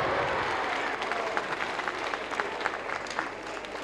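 A studio audience at a 1999 children's TV show claps steadily in a dense wash of applause, with a voice briefly audible underneath.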